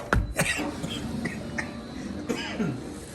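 Several coughs from an older adult indoors, close and fairly loud, with a couple of bursts near the start and more around the middle and end, plus a short throat-clearing sound.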